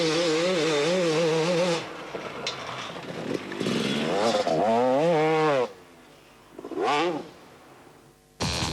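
A motocross bike is ridden through a corner, its engine revving hard, dropping off and snarling back up in several sharp bursts, close and loud, before a final quick blip.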